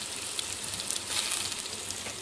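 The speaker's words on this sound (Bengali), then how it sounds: "এবার এই তেলেই ফোড়নে দিচ্ছি সামান্য গোটা জিরে দিয়ে নেড়ে নিয়ে দিয়ে দিচ্ছি কেটে রাখা কচু।" Whole cumin seeds and cut taro frying in hot oil in a pan, giving a steady, dense sizzle that carries on without a break at close range.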